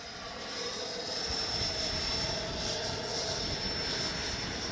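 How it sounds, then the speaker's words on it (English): An FMS Avanti S 70mm electric ducted-fan RC jet flies in the wind, a steady, whining turbine-like roar that swells slightly and holds at a constant distance, with faint wind noise and no talk. "now I'm flying this little pocket rocket"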